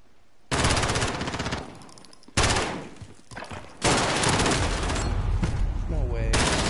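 Gunfire in the first-person shooter Modern Warfare, loud sustained bursts of automatic fire in three long stretches separated by brief lulls, close and dominant with no talk.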